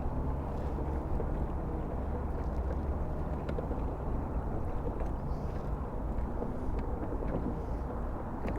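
A boat motor drones steadily out on the water, a constant low rumbling engine close by with rushing wash and wind noise, unbroken for the whole stretch.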